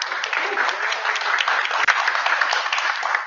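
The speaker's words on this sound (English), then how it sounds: "So round of applause for her." Steady audience applause at a computational design meetup, a continuous wash of clapping from a room full of people, consistent in level from start to finish.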